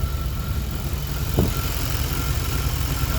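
A car's TBI engine idling with an exhaust leak gives a steady, loud, rough low rumble close by. One brief rising whoosh cuts through the middle of it.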